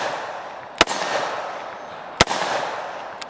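A Taurus Judge revolver fires double action, two loud sharp reports about a second and a half apart, then a fainter third crack, each with a short echoing tail over quiet outdoor background.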